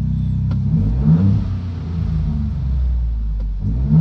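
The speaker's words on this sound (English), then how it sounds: "I'm just going to start it up and give it a couple revs with the windows rolled up." A 2021-or-newer Ford Bronco with an AWE 0FG cat-back exhaust, heard from inside with the windows rolled up: a deep idle rumble that swells into a couple of throaty revs, then settles back. No one speaks.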